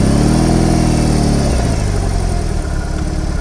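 BMW R 18 B bagger motorcycle engine in rock mode, a loud, close, steady low rumble with a harmonic drone that drops in pitch about halfway through as the throttle eases off toward idle.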